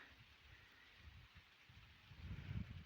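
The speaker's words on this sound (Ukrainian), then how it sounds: "Бачите, як дощик іде." Light rain falls steadily in a rural setting, a soft diffuse patter with low rumbling gusts that grow slightly louder toward the end.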